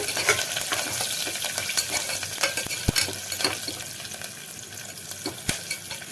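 Green chillies, curry leaves and cashews fry in hot oil for ven pongal, giving a steady close sizzle with soft stirring scrapes and a couple of sharp clicks.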